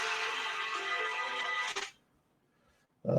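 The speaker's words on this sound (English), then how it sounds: "My phone should be silenced." A phone rings loudly and unbroken for almost two seconds, then cuts off abruptly, leaving near silence before another sound starts at the end.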